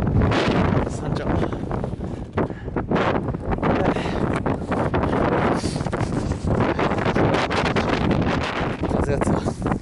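Strong wind roars across a snowy mountain summit, buffeting the microphone in loud, continuous gusts with a constant rushing rumble.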